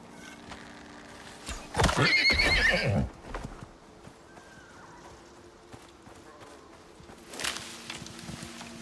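A horse in the video game Icarus whinnies loudly with a rattling neigh, followed by quieter hoof clops and a second brief snort later, over a low steady background hum.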